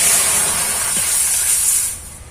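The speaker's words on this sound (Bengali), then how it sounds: "আর কড়াই এবার দুধ দিয়ে দেব পিঠাটা করার জন্য" Milk poured into a hot kadai for making chusi pitha gives a loud, steady hiss that holds for about two seconds, then tapers off quickly.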